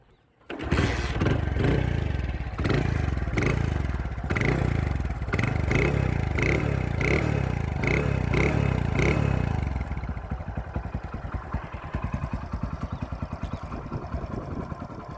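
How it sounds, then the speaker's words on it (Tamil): A Hero Honda CD100SS motorcycle engine fires up and runs with a loud, close, rhythmic thumping beat, with a few blips of throttle, then settles into a quieter, even idle. "இந்த வண்டியோட பீட் சவுண்ட் எப்போ இருக்குன்னு கேளுங்க."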